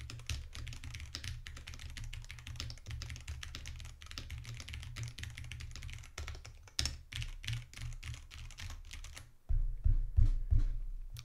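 Typing on a computer keyboard, checked during a test of an Asus ROG Carnyx gaming microphone on a shock mount: a steady run of close key clicks and taps, with a louder, heavier burst of key presses near the end.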